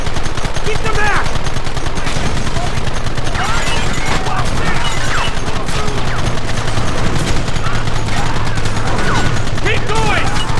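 Heavy gunfire in the Red Dead Redemption video game during a chase, loud and unbroken rapid shooting with overlapping rifle and pistol shots, while characters shout over the din.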